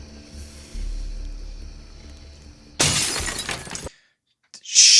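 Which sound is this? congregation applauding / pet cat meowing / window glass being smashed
window glass being smashed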